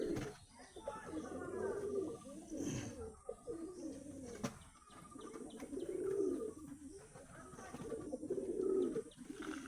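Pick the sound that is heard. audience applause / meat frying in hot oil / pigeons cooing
pigeons cooing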